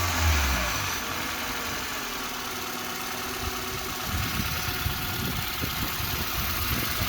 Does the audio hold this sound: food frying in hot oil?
no